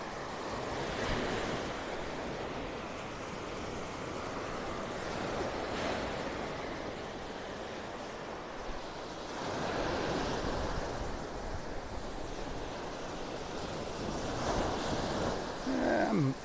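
Ocean surf on a beach in North Naples, Florida rolls in as a steady, broad roar with gentle swells of louder breaking waves, mixed with wind buffeting the microphone and no voices.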